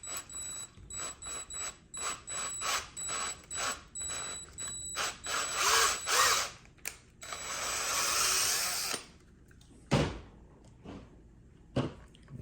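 Power drill with a 6.5 mm bit boring the center of a plastic wheel for a 1/6 scale tracked bulldozer model, repeated short whirring bursts with clicks and ratcheting in between, close up, then a longer grinding run and a few sharp knocks.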